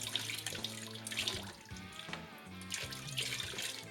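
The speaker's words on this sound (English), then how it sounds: "with cool water, cool clean water, thoroughly rinse the keg coupler" Cool clean tap water runs steadily over a keg coupler from a kegerator beer dispenser, a continuous splashing rinse near the microphone with clatter from the metal part being turned under the stream.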